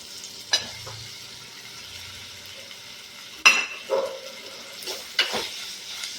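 Tomatoes go into a pan for a spicy Kerala chilli fish curry, with a soft sizzle of frying under a few sharp clinks and scrapes of utensils against the pan, fairly quiet and close.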